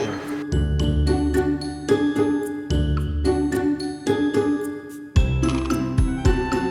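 A hand bell rings repeatedly in a Shopee live-selling studio, bright tinkling strikes with long ringing overtones, sustained and close, in quick clusters that restart after a short break.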